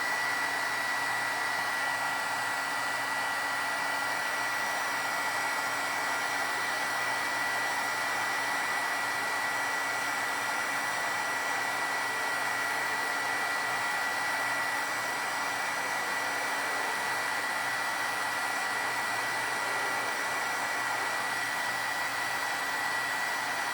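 Heat gun blowing steadily while melting embossing powder, a constant airy whine with a fixed electric hum that runs unchanged at close range throughout.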